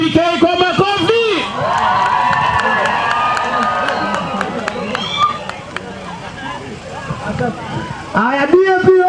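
A crowd at a political rally during a kingdom celebration claps and cheers to welcome a party leader, a busy swell of applause and shouts with a voice speaking over it at the start and end.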